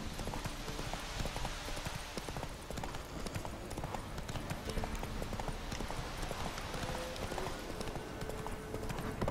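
Horse hooves clip-clop steadily in the video game Witcher 3, a continuous rhythmic trot with a short whinny-like tone near the end, layered over ambient game sounds and heard without speech.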